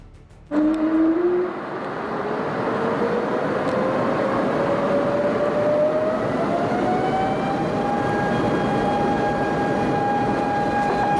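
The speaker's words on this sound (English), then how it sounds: "That was a pretty intense takeoff." Jet airliner taking off, heard from inside the cabin: a sudden loud engine roar kicks in and holds steady as a broad rumble, with a rising whine climbing in pitch and then leveling off.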